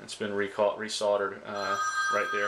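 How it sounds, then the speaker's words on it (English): A phone rings nearby in a home while someone talks about a repaired hot water heater; the ring's steady tone runs under and between his speech. "That's my phone ringing."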